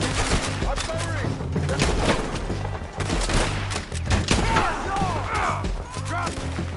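Rapid gunfire in the video game Red Dead Redemption 2, repeated sharp shots and thuds over music, with in-game voices shouting during the firefight.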